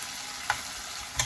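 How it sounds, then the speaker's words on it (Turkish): Peppers fry in a pan, a constant close hiss of oil with a couple of brief louder crackles or stirring clicks over roughly a second. "Biber kızartması koydum."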